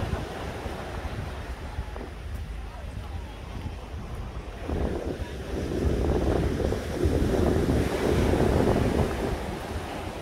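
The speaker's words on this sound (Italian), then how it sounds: "Look at the sea." Sea waves wash onto the beach at Maiori on the Amalfi Coast in winter, a steady roaring surf with heavy wind buffeting the microphone that swells louder in the second half.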